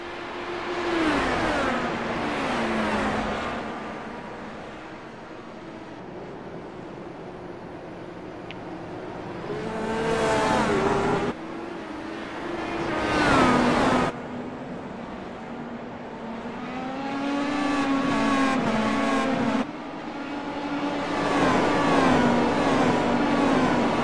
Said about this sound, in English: But now for the Pro Mazdas, as they are smaller and don't have that big of an engine and go a little bit slower